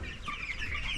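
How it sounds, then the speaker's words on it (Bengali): Chickens clucking softly while eating at a feeder in a poultry farm shed with wood-shavings litter, a brief burst of overlapping clucks over steady low background noise. "মুরগিগুলো এখন খাইতেছে।"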